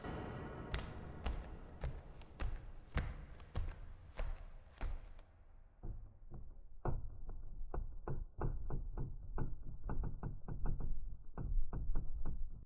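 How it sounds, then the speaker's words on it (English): Repeated knocking in a Roblox horror game, a steady series of dull thuds and taps, loud and close, continuing in an uneven rhythm that turns more muffled partway through, with no talking. "It taunts you by knocking"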